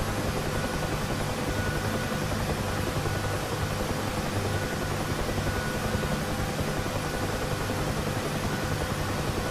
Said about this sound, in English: I will now bring the helicopter to a low altitude hover as demonstrated in the pickup lesson.